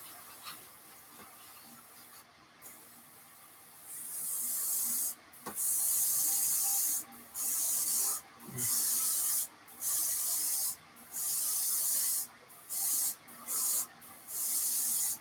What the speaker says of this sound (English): Use the airbrush to dry that a little bit.